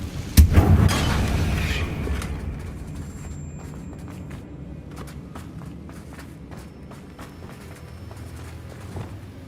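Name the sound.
Confringo spell explosion, video game Hogwarts Legacy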